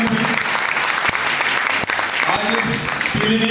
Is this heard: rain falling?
no